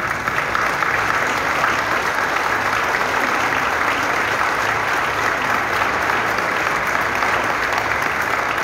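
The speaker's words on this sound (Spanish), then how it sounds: "desde aquí le damos un fuerte aplauso a quienes" Steady, dense applause from a crowd at a PRI party meeting in Campeche, continuous and evenly loud throughout with no talk over it.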